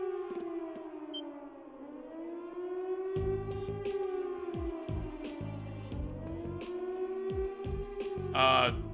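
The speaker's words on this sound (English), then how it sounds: "It sounds like a siren." A wailing civil defense siren from a video game, Trails of Cold Steel, rises and falls in slow sweeps, with sharp clanking and mechanical knocks breaking in partway through.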